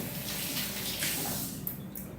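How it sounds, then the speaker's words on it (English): Running tap water while hands are rinsed in a kitchen sink during preparation of spiced pumpkin seeds, a steady moderate splashing wash that lasts throughout with no talk. "I'm gonna rinse my hands"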